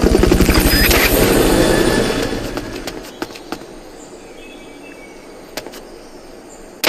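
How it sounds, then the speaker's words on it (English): A Fulton recovery helicopter in the video game Metal Gear Solid: Peace Walker roars with a loud rhythmic rotor thump for about two seconds, then falls away to quieter ambience with scattered clicks and a brief burst at the end. "Fulton recovery helicopter is complete."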